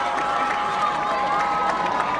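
Hazlet crowd at a 1998 high school football game against DeWitt, a sustained wash of distant cheering and crowd roar with scattered shouts, continuous and fairly loud throughout.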